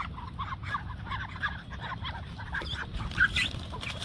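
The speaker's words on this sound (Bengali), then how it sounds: "এই দিয়ে কিন্তু সবাই হাঁস মুরগি বেশি পালে" Village ducks and chickens call close by, a busy stretch of quacks and clucks with a louder honk-like cry near the end, over faint background noise.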